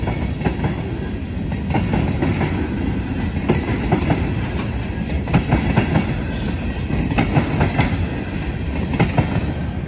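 A Norfolk Southern H95 freight train rolls past close by, its wheels clattering in a rhythmic clickety-clack over a heavy, continuous rumble.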